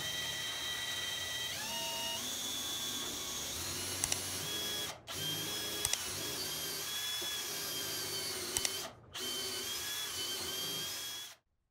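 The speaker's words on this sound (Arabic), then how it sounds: "اعمل بقى الثقب ببنطة أكبر ملي من مقاس المسمار اللي أنا ناوي أستعمله" A power drill bores a hole through two pieces of wood with a bit, its motor whining steadily and shifting pitch under load, with two short pauses before it stops, close up and with no talking.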